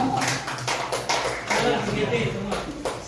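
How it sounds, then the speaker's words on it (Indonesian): Teachers are applauded in a classroom, with a dense patter of hand claps running under continuous talk from several people for the whole stretch. "Tepuk tangan untuk guru hebatnya yang setuju."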